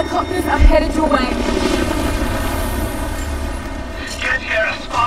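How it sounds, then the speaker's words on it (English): Helicopters approach in the video game Rise of the Tomb Raider: a steady, droning rotor-and-engine hum holds at a constant level throughout, blended with layered game sound. "Jacob, helicopters are headed your way."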